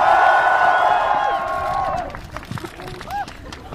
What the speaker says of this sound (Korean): 여러분 우리 F4 쫄지 말라고 힘찬 환호 박수 한번 보내주십시오